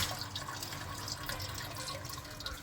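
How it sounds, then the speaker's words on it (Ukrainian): Water runs and drips steadily as a badly clogged heater filter from a Daewoo Lanos cooling system, fouled by poor-quality antifreeze, is rinsed; a continuous splashing wash without speech. "Миємо фільтр"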